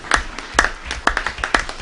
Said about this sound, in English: You're going to be clapping for a while, so keep it going.